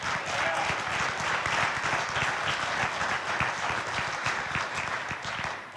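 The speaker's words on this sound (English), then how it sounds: "Polite, lots of applauding" Dense, steady applause from a keynote convention audience fills the room at close range, continuous throughout with a faint murmur of voices mixed in.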